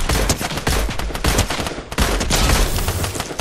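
Dense, rapid gunfire from a Fortnite match, with overlapping shots and bursts packed close together and loud throughout, carrying no voices.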